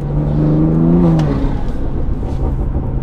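A BMW M340i with its B58 straight-six revs briefly, a rising engine note that swells and falls away within a second, leaving a low idle rumble.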